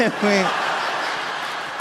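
A comedy club crowd cheering and making noise, a broad roar of voices and whoops after a short spoken line, sustained and fairly loud.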